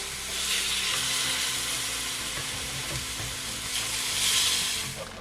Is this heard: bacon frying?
yes